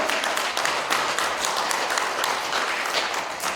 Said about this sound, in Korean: 벌써 박수를 칠 때는 이렇게 사정없이 쳐야 돼.